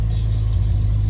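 A Morris Minor's engine runs steadily while the car is being driven, a low continuous drone that holds an even level throughout with no clear revving.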